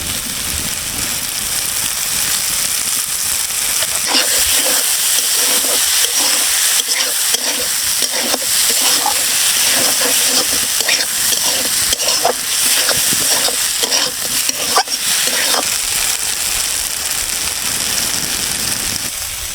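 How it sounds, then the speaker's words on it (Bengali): Bottle gourd seeds and shrimp frying in a pan, a continuous close sizzle with repeated scraping and stirring strokes, no talking heard. "আমার ভাজাটা প্রায় হয়ে আসছে, এখন আমি সামান্য তেল দিয়ে দেবো।"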